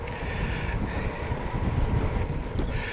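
Steady, loud wind buffeting the microphone outdoors while cycling through Lincolnshire countryside, a continuous low roar and rumble with no pauses and no voices.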